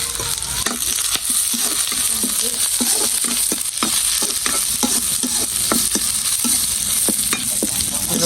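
Onions frying in a pan with a steady, loud hiss throughout, broken by frequent sharp scrapes and clicks of a spatula stirring them, no voices.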